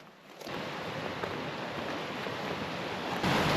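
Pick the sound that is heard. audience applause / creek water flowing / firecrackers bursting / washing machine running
creek water flowing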